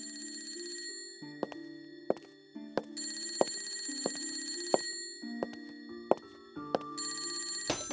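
An old-style telephone bell rings in repeated bursts of metallic trilling, with clicks between, loud and alone, as in a radio drama.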